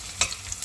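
Garlic browns in a pan, a faint low sizzle broken by a few quick scraping stirs, brief and close.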